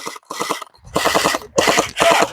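Gel blaster guns firing in rapid bursts, several short rattling volleys with brief pauses between, close and fairly loud.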